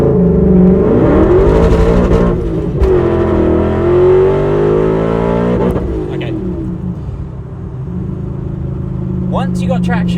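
A supercharged, straight-piped BMW M5 E39 V8 launches hard on a timed acceleration run, its loud exhaust roar climbing in pitch through the revs, easing off near the top, then rising again, with no talk over it.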